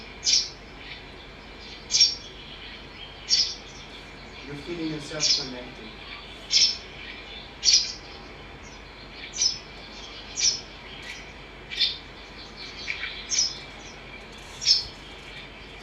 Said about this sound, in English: And then the bird came close to you.